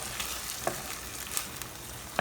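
Seasoned taco meat sizzling in an Instant Pot as it is stirred, a steady frying crackle with a few sharp spoon scrapes and clicks, close and alone with no talking.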